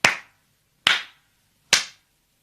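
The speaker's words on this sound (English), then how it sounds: "the eldest princess clapped her hands 3 times" Three sharp, evenly spaced hand claps, close and loud, with silence between them and no voices.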